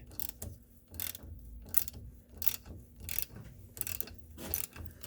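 A socket wrench ratchets to loosen a rusted wheel hub bolt on a 2012 Subaru Impreza, making repeated close clicking bursts in an uneven rhythm, roughly every half second with short pauses between strokes.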